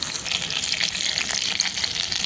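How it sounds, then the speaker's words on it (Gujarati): Green chillies sauté with tomatoes in a hot pan for a methi paneer dish, giving a close, continuous sizzle and crackle with light stirring and no voices. "તો મરચાં આપણે થોડા સાતળવાના છે, જેથી ટામેટાનો ફ્લેવર મરચાંમાં એકદમ સરસ આવે."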